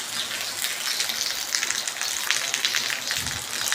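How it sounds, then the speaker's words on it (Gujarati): Light rain falls steadily as a soft, continuous hiss with scattered drop patter, evenly textured throughout and with no voices. "વરસાદ ચાલુ છે"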